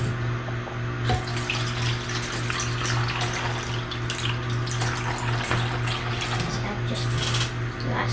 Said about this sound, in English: now it's time to pour water in both open sides of the chicken